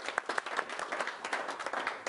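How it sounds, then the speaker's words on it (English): Small group at a strength training club claps for themselves, a short burst of a few hands clapping at close range with uneven rhythm. "So give yourselves a clap."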